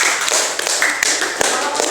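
Applause from a school audience during a literacy event, a close, loud patter of clapping hands with sharper individual claps standing out from the steady mass.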